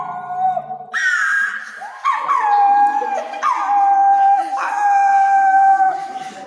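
A human voice imitates street dogs quarrelling and howling, with rising, wavering whines and yelps repeated in several long howls close to the microphone, performed as part of an Assamese comedy act.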